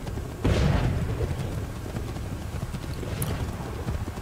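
Horse hooves clip-clop in Assassin's Creed 3, a steady trotting patter under rumbling game ambience, with a heavy thud near the start and no voices.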